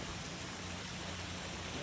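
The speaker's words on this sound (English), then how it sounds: "It's pissing down rain." Heavy rain pours steadily outdoors during a storm, a dense, even hiss of downpour with a low rumble underneath, constant and close throughout.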